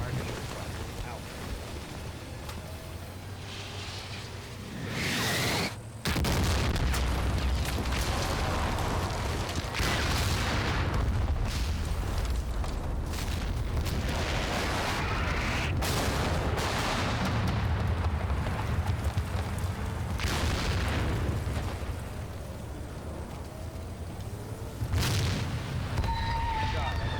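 An artillery fire mission pounds the ground in the Combat Mission: Black Sea war game, with repeated heavy booms and sharp blasts sounding over a low, constant rumble, some hits loud and close, others more distant, while voices talk under them.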